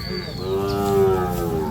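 A single drawn-out moo from a young calf, close by, rising and then trailing off over under two seconds.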